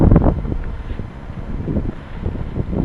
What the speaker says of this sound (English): The wind is just too much.